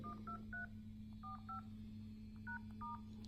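iPhone keypad dial tones in an emergency call menu: short paired electronic beeps in small bursts, a few quick presses, then a pause, then more, clear and close over a steady low hum.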